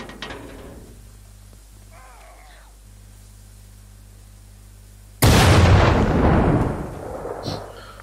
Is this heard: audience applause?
no